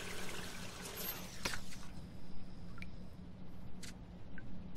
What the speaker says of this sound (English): Take a shower, kid.